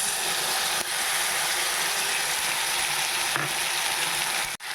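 Spices and fenugreek leaves sizzle steadily in a pan with fried onions, a loud continuous frying hiss with a few brief stirring clicks, no voices.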